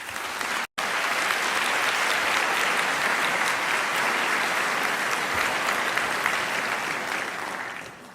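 An audience at a Cornell convocation applauds to welcome President David Skorton, with steady, dense clapping that keeps a broad wash for several seconds after a brief drop near the start and then slowly fades.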